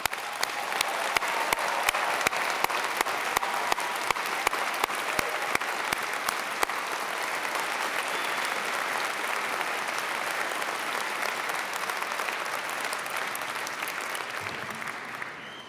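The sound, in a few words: applause for the new graduating class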